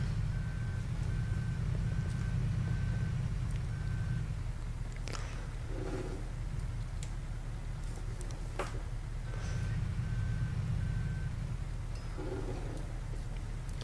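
A truck in a farming simulator game reverses with its backup alarm beeping in a steady, evenly spaced series, stops, then starts beeping again over a low engine hum, with faint clicks in between.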